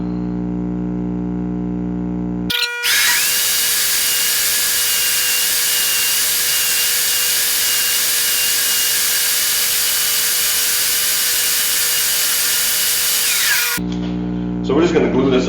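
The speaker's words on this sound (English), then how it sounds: "I'm going to go ahead and cut this out on the saw" A power saw cuts through a wooden piece for a scale model of Sambro Lighthouse, running as a loud, steady whine for about eleven seconds before stopping abruptly, with brief workshop noise before and after.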